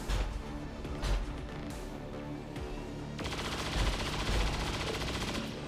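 Gunfire in the XCOM 2: War of the Chosen strategy game, a dense burst of repeated shots rolling in several volleys over a continuous loud battle din, with a heavier sustained barrage in the second half.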